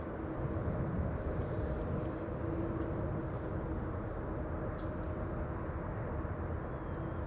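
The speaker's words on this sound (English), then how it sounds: "KLM E2 Embraer 195, flight 924, arriving from Edinburgh is this." A KLM Embraer E195-E2 jet arriving from Edinburgh near the Polderbaan threshold at Amsterdam Schiphol makes a steady, distant engine drone with faint humming tones, even in loudness throughout.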